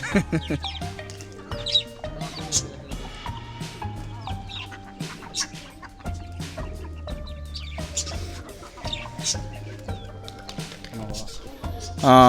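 Chickens at a poultry farm cluck steadily and close up, with repeated short calls and chirps over a busy backdrop, while a person talks through much of it.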